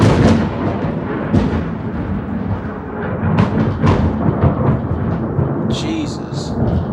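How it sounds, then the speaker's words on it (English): Deep rolling thunder from a storm heard from indoors, a low sustained rumble with a few sharper swells, moderately loud and steady, with a faint high chirping near the end. "there goes thunder again"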